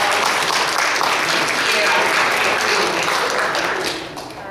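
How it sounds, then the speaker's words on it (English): Sustained round of applause from an audience at a Raleigh community council meeting, a dense steady wash of clapping hands that holds for about four seconds before tapering off. "Can we give another round of applause?"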